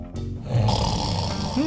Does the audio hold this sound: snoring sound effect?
yes